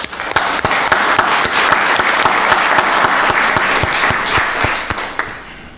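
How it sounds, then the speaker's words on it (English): Room-filling applause from a county board of commissioners meeting audience, a steady bed of clapping with one or two especially sharp, close claps ringing out at a regular beat, gradually thinning toward the end. "Let's give them a round of applause."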